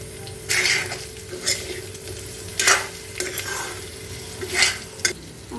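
Onions go into a pan where pork is already frying in its own rendered oil. A soft steady sizzle runs throughout, with several scraping stirs against the pan, close and fairly quiet, and no voices.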